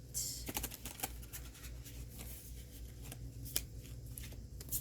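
Playing cards being shuffled at close range, a steady run of crisp riffling flutters and snaps over a soft, low background hum, with no talking.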